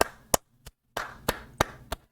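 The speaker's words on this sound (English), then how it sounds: "I shouldn't be clapping for something that's been part of the freaking games franchise since the beginning" A run of about seven sharp hand claps comes in an uneven rhythm with short gaps between them, close and crisp, and no one speaks.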